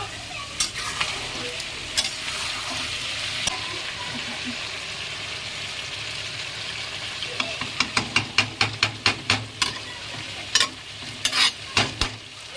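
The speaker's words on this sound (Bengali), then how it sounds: "মাংসটা আর একবার আমি নাড়িয়ে নেব" Chicken curry with pieces of meat is stirred in a frying pan over a steady sizzle, with scattered spoon scrapes early on and then a quick run of loud, rhythmic strokes, while a voice talks.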